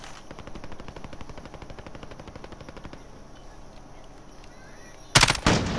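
Rapid automatic gunfire in a video game shootout, a fast, even burst of shots over about three seconds, then a quieter pause before a loud, abrupt blast of noise at the end.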